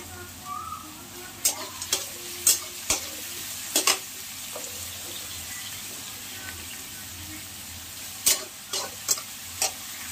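Bay leaves and cumin seeds sizzle faintly in hot oil for a jackfruit curry, a soft steady frying hiss broken by several sharp clinks of a spoon against the pan.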